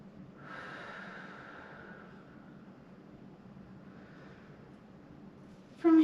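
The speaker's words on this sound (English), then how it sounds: "Big inhales and big exhales." Slow, deep breaths during a barre workout stretch: a long, airy inhale and exhale drawn out close to the mic, quiet and unhurried, with a brief louder bump at the very end.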